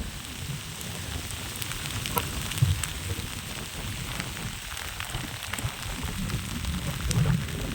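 Light rain patters steadily over an open field, a soft continuous hiss dotted with scattered drop ticks and no voices.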